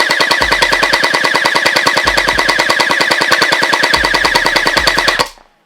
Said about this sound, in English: now let's see how fast this blaster shoots RPS-wise